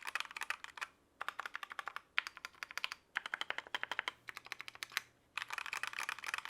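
Typing in quick bursts on a budget mechanical keyboard with Akko Jelly Pink switches, modded with internal foam and a Band-Aid mod, gives soft, muted clacks with short pauses between runs, close and alone.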